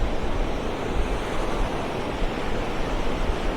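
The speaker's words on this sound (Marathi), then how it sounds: "आणि मोठी लाट आलेली आहे आपल्या पायावरती." Sea waves wash over bare feet at Versova Beach at night, a steady, close roar of surf with constant rushing wash and no clear break, loud and unbroken throughout, with no voices.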